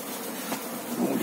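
A dense, steady buzzing of many honey bees close by at a hive, humming continuously with slight swells.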